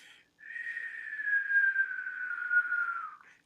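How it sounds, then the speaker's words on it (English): A single sustained human whistle holds one steady, gently falling pitch for about three seconds after a brief pause, clear and fairly close with no talk over it. "till you hear that whistling"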